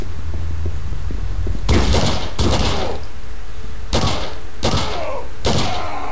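Gunshots in the video game Condemned: Criminal Origins: five loud, sharp shots spaced about a second apart over a low droning hum, with no talking.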